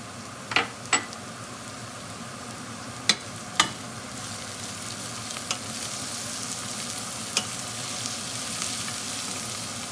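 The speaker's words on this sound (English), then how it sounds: "And you'll let this saute for about 1 minute." Minced garlic, rosemary and chives sauté in a soup pan, giving a steady soft sizzle punctuated by a few sharp clinks of a stirring utensil.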